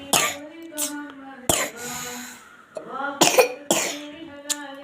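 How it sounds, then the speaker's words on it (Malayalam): A person coughs several times in short, sharp bursts spread unevenly, close and fairly loud, with brief vocal sounds between them. "ചുമ നല്ലുണ്ട് കേട്ടോ."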